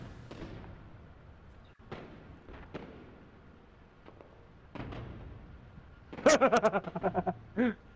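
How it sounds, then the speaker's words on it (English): Fireworks burst in the video game No Man's Sky: scattered sharp pops and thuds, then a louder rapid cluster of crackling bursts near the end, partly mixed with voice-like tones. "We're taking these pictures of the fireworks."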